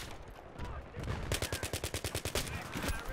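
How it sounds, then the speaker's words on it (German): Rapid automatic gunfire in Battlefield 3 multiplayer, a burst of a dozen or so sharp evenly spaced shots after a noisy stretch of battle ambience, close and loud. "Den habe ich doch komplett ins Gesicht geschossen"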